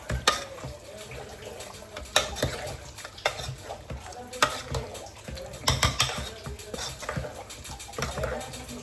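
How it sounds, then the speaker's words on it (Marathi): Washed chicken is stirred in a pot, wet squelching and scraping with repeated sharp clacks of a spoon on the metal rim over a soft sizzle, steady and close. "आणि याला आपल्याला मिक्स करायचे छानपैकी."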